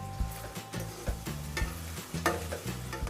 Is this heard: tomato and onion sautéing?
yes